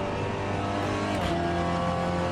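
A SEAT Leon touring car in Assetto Corsa at Watkins Glen revs hard and close, its engine around 6,500 rpm giving a dense, sustained buzzing drone that shifts pitch slightly midway, with no voices.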